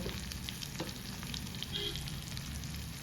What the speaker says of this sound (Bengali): রসুনটাকে একটু সতে করে নেব।